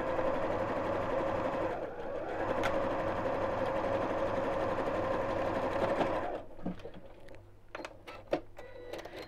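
A sewing machine sews two fabric pieces together with grey thread, its motor whirring steadily and close for about six seconds before stopping, followed by a few sharp handling clicks.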